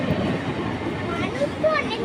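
A train pulls into the platform at Bardhaman station, its rumble steady and fairly near beneath a person talking throughout.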